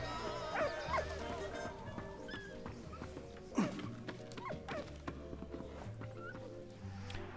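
A dog barks and yips repeatedly in the World War I video game Soldats inconnus, with short bursts spread over a busy mix of game music and effects, moderately loud and fairly close.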